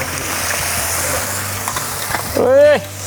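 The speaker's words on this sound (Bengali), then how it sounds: "গরম পানি দিয়ে দিলাম ঝোল আটু দেবেন" Hot water hits frying chicken and taro curry in a pan, raising a soft continuous sizzle and hiss, followed near the end by a short rising squeal.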